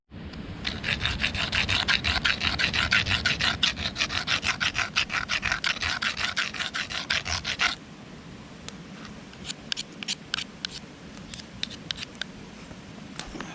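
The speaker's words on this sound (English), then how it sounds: "rubbing against a rock to make it kind of flat" An object is rubbed hard against a rock at a Colorado campsite to flatten it: fast, rhythmic gritty scraping strokes for about seven seconds, then slower, scattered scrapes, close and alone.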